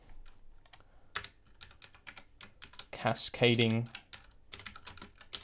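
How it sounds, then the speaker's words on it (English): Quick, uneven keystrokes clatter on a computer keyboard in bursts, close and crisp, while someone speaks briefly between the typing. "my typing is terrible today"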